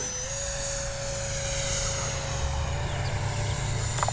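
A Freewing 70mm F9F-5 Panther RC jet flies by with a steady, loud electric ducted-fan whine holding a constant pitch for several seconds, with no voices present.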